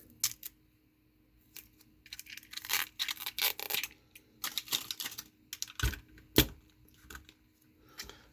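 Tape is peeled off a coin roll tube, heard close up as quiet, scratchy crackling bursts that come in irregular spurts, with two sharper rips near the end.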